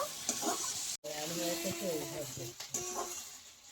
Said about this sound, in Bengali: পেঁয়াজ কলির সঙ্গে মশলা কষিয়ে নিয়েছি